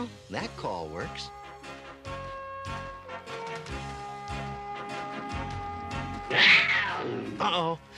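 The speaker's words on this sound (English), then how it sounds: "Uh-oh, saber cat." Saber cat from a He-Man film, a loud snarling growl that swells into a harsh roar near the end, heard among speech and overlaid music tones.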